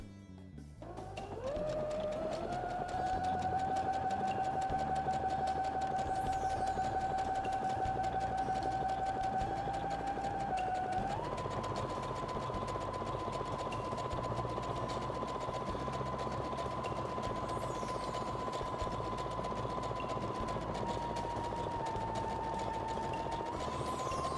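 An electric sewing machine stitches fabric for a car trash bag, a close, continuous motor whir with a steady needle hum that holds pitch, dips briefly, then carries on evenly throughout.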